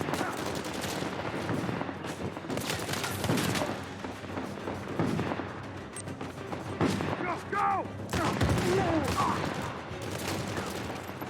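Gunfire crackles in Uncharted 4, with repeated shotgun blasts and rapid bursts from other weapons in a dense, chaotic firefight. Loud impacts and booms layer over one another without pause.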